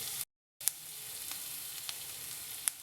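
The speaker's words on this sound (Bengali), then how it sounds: "পেঁয়াজটা 1 মিনিটের মতন ভাজবো, একটু সামান্য লাল লাল হবে" Chopped onion sizzles steadily in hot oil in a pan, a continuous close frying hiss with a few sharp crackles and pops, briefly cut by a short silent gap near the start.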